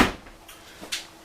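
Pantry door of a 2020 Grand Design Reflection 303RLS travel trailer swinging open, a soft latch click followed by faint creaks and a couple of light knocks, close and fairly quiet.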